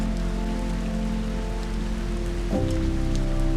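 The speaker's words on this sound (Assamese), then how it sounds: "বাৰিষাৰ বৰষুণ জাক" Monsoon rain falls steadily as an even hiss that does not let up, with a low sustained tonal hum running underneath and no voices.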